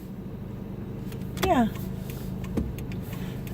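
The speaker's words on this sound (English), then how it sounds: "driving home" Steady low engine and road hum inside a car on the drive home, continuous and fairly close, with a brief spoken word and a voice rising over it partway through.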